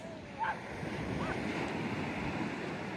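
Steady wash of sea surf at Praa Sands beach in Cornwall, a broad continuous roar of breaking waves with wind buffeting the microphone and a faint distant call near the start.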